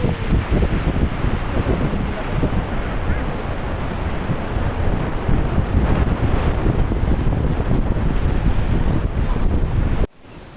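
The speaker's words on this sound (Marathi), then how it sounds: "बघूया बघा पूर्ण असा धबधबा जे आहे ते आपल्याला इथं" Steady, heavy rushing of falling water fills the whole clip, loud and continuous, cutting off abruptly near the end.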